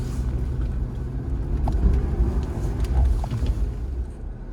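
An Aston Martin sports car driving through light snow, its engine giving a low rumbling growl that swells and eases as it pulls for traction, with wind buffeting the microphone.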